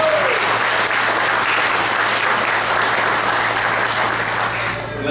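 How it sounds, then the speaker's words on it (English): A crowd at a Junior Police Academy graduation in Jersey City, New Jersey, applauds an officer with thick, continuous clapping over a low electrical hum, easing slightly at the very end. "Let's give him a round of applause"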